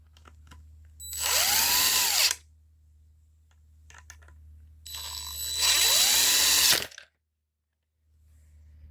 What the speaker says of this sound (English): And of course we're going to drill these in.